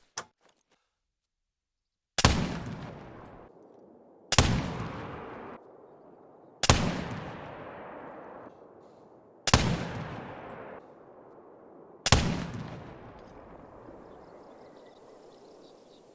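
Five heavy rifle shots from a Curman .50 Inline muzzleloader in theHunter: Call of the Wild ring out one by one at a firing range, each a sharp loud crack with a long booming tail, spaced about two seconds apart.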